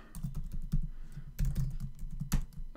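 Password being typed on a computer keyboard, a close, rapid run of uneven clicky keystrokes with a few louder taps near the end.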